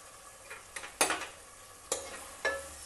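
Red chilli chicken with green chilies stirred in a pan, a few distinct scraping strokes over a faint sizzle, close and moderately loud.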